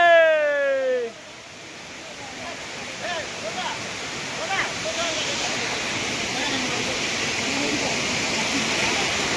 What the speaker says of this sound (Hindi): आमे एबे पहुंची गलु फाइनली मुखी पोटा वाटरफॉल ये